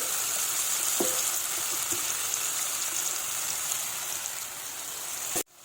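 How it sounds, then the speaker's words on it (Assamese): Chopped tomatoes frying in a pan make a steady, close sizzle with a couple of faint utensil taps, and the sound cuts off sharply at the end. "এইখিনি ভালদৰে ভাজি ল'ম যাতে অকণমান কোমল হৈ যায়"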